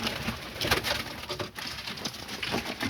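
Soft pigeon cooing from breeding birds in a coop repeats over a steady, busy background of rustling and bird activity, fairly close, with no talking.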